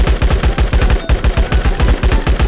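Rapid automatic gunfire in the survival video game LifeAfter, a steady burst of loud, close shots repeating in a fast rhythm for the whole stretch, with no talk over it.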